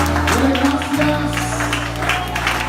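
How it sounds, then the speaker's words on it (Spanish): A church congregation claps together, a steady dense patter of applause filling the room with a hum of voices and background tones underneath. "Dale un aplauso al Señor."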